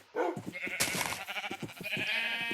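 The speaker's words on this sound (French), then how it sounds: "Ok, là-bas, il y a plein de moutons." Sheep in the Minecraft video game bleat in a quick run of loud, close calls, several wavering bleats overlapping over about two seconds with no talk.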